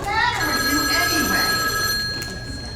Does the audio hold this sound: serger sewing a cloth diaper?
no